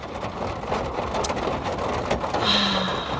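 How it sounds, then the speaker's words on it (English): Hail pelts down during a storm in Yellowstone, a dense, continuous patter that holds loud and steady throughout, with a faint tonal hum near the end and no talk. "Oh my god, it's seriously hailing right now."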